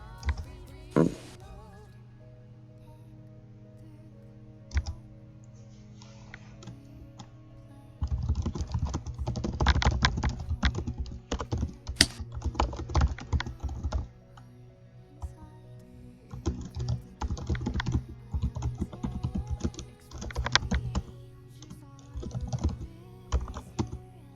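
Computer keyboard typing to send a direct message, with bursts of rapid close key clatter that start sparse, then grow dense and continuous with short pauses, and no talking.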